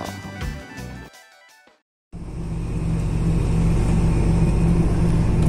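Transjakarta city bus running, a steady low engine rumble and road noise after a brief quiet gap, following a short stretch of busier mixed sound.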